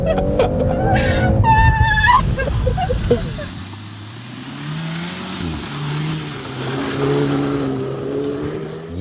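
A VW Golf R Mk8 333 hp special edition revs and whines while drifting on a frozen ice lake, engine note rising and falling at moderate distance, with brief voices near the start.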